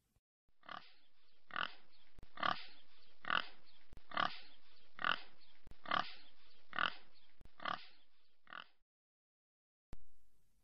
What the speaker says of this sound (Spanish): Soy el cerdo.